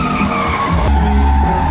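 Tires skid and squeal loudly as a Kia drifts at the SEMA 2017 show, a close, continuous screech with engine noise underneath.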